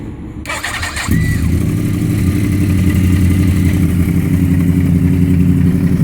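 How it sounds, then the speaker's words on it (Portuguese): After a brief crank, a Yamaha R1 motorcycle engine catches and settles into a steady, loud idle that runs close by for several seconds. "deixa eu ligar a moto para vocês verem"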